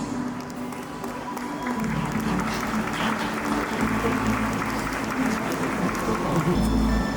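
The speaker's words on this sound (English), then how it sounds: "A big round of applause, please." An audience at a school annual day celebration applauds for top students, a sustained wash of clapping from a large hall crowd, with a voice over the noise and a low hum throughout.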